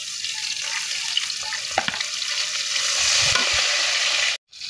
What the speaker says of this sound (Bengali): এবার আমি কড়াইয়ের ভিতরে পরিমাণ মতো সয়াবিন তেল দিয়ে দেবো, আর দিয়ে দেবো কাঁচামরিচ ফলে।